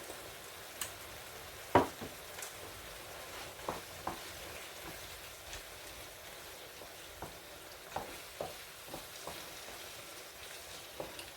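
Vegetables for salade méchouia frying in a pan with paprika, giving a faint, steady crackle with scattered small pops and no talk.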